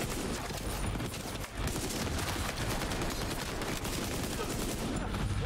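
Rapid gunfire in the video game The Division 2, a dense, continuous burst of shots filling the clip at close range with no pauses.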